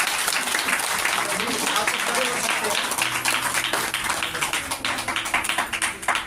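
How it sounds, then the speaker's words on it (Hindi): Congregation at a Christmas church gathering breaks into loud, dense applause, many hands clapping steadily and evenly throughout with no break. "तो जोरदार तालियां बजाएंगे"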